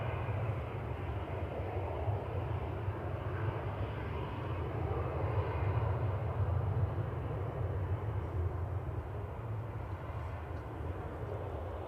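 A jet airliner on landing approach at Manchester Airport on a calm evening into a headwind, heard as a steady, fairly loud broadband engine roar with a deep low rumble that holds for the whole stretch.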